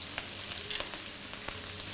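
Ginger and garlic frying in a ladle of oil left over from frying chicken, giving a steady low sizzle with a few sharp crackles and pops and no talk.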